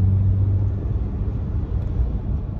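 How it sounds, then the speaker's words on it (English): The engine of a 2024 Ford Ranger Tremor pickup, heard from inside while driving, gives a loud, steady low drone and rumble without a break or any talking. "the only thing I don't like about this car, it's how loud the engine is"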